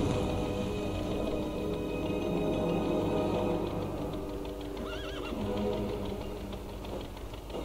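A horse in the Lego Indiana Jones video game whinnies loudly over a steady hum, with clip-clop hooves and a rising, wavering neigh near the middle.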